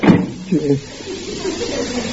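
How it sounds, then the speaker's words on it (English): A door bangs shut on a 1947 old-time radio comedy, a sharp close thud followed by a brief rattle, then low room noise and muffled background sound. "Slams the door right in my face."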